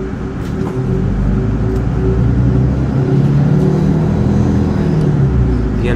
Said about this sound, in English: The engine is also quiet for a CNG bus.